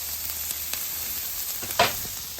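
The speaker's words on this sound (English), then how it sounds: "Try to get some color on my peppers and onions real quick right before we add the brisket" Peppers and onions sizzle steadily on a flat-top griddle, a close, continuous hiss with a brief louder flare of spitting near the end.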